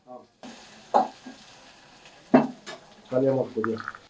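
Onion with freshly pounded ginger and garlic hits hot oil in a pan, giving short sizzling bursts and stirring clatter between pauses, with people talking throughout.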